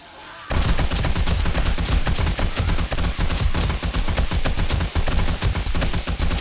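Rapid gunfire in the zombie survival video game 7 Days to Die during a horde night, heard as a loud, dense stream of shots that runs unbroken after a quiet start.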